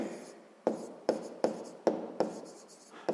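A pen writes on paper while working a 6th-grade maths division problem, producing a close series of about eight brisk strokes and taps in an irregular rhythm, with no other sound around them.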